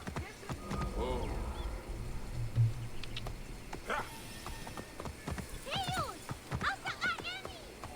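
Horse hooves clip-clopping in the Assassin's Creed Origins video game, set in ancient Egypt, with a whinny and scattered animal calls and knocks around, moderately close.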